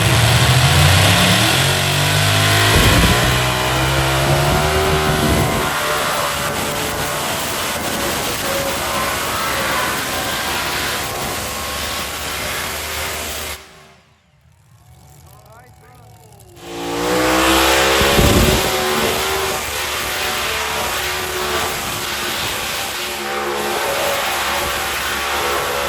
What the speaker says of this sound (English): It's hard to beat tractor pulling for lots and lots of horsepower and motors.